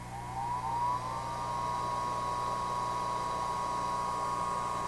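A prototype hairdryer with a quiet five-pole DC motor spins up and settles into a smooth, steady whine at low speed, close and fairly faint with no pulsing.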